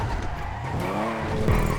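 Race car tyres squeal and skid through a drift in the video game GTA 5, a continuous loud screech over engine roar with no talk.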